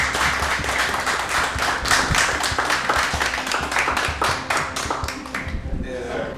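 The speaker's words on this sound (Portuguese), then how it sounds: "quero agradecer e pedir uma salva de palmas para o nosso esforço" An audience at a lecture gives a round of applause: steady, fairly loud clapping with individual claps distinct, fading slightly toward the end, with talking over it.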